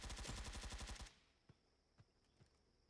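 Automatic gunfire rattles in a loud sustained burst for about a second inside a Roblox Blackhawk Rescue Mission shooter, then a few isolated distant shots pop over quiet background.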